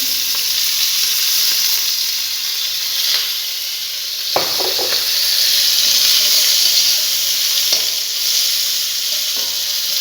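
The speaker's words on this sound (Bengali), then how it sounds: "এগুলো একটু হালকা ভেজে নিই তেল দিয়ে দিচ্ছি" Ingredients for a fish curry, including garlic and tomato, fry lightly in a little oil with a steady, close sizzle and crackle that runs unbroken for the whole stretch, with a few brief clinks of a stirring utensil.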